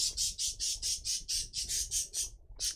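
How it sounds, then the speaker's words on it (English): Pet birds squawk loudly indoors in a steady run of about a dozen harsh, evenly spaced calls, close and insistent, with a short gap before a final squawk. "Oh, sorry about my bad birds."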